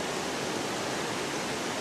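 Springs bubble up from beneath the rocks along a ridge in Israel, making a continuous close wash of flowing water with no pauses.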